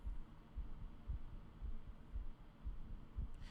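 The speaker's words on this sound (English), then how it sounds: "What is this heartbeat sound?" A slow, steady heartbeat throbs in Myst III: Exile, low thumps repeating about every half second, close and moderately loud over a faint ambient hum, with no one speaking.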